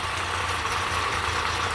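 Honda 30 outboard motor idling after reassembly while running poorly, a steady low engine drone with an even mid-range hum, continuous and fairly close, no voices.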